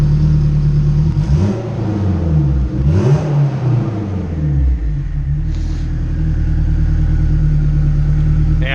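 A turbocharged Acura RSX idles slightly high on a dyno with a loud, close, steady engine drone, its pitch wavering and dipping briefly as the cam angle is adjusted before settling back to an even idle.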